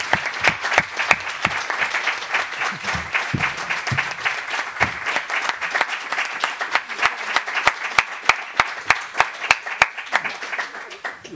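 An audience in a lecture hall on Palestine claps after the talk, a sustained round of applause with sharp individual claps standing out near the microphone, thinning toward the end.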